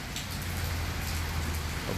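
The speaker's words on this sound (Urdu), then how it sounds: "یہ دیکھیں بارش کتنے زور کی لگی ہوئی ہے جی" Heavy rain pours steadily during a thunderstorm in Islamabad, a dense, constant hiss and patter that stays loud and unbroken throughout, with no voices over it.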